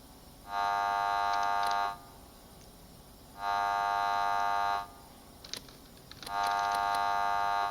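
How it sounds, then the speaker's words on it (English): A reactor's high thermal power alarm sounds in repeated long, steady electronic tones, three blasts separated by gaps of quiet hum, loud and unchanging in pitch. "You can hear the high thermal power alarm. This cannot be silenced."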